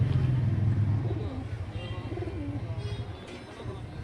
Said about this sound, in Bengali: এটি হলো ফিমেল পায়রা, দুটোই পায়রা দেখতেই পারো কোয়ালিটি